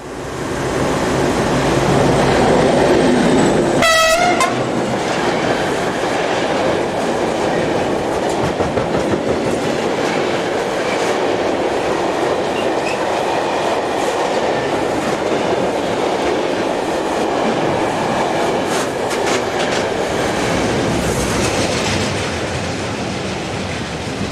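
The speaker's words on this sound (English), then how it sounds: "Dispolok hire locomotive number 2601 heads east for Bettembourg Yard." Dispolok hire locomotive number 2601 heads east toward Bettembourg Yard with its train: a loud, continuous rolling rumble with rhythmic clickety-clack of wheels over rail joints and a brief wheel squeal near the start.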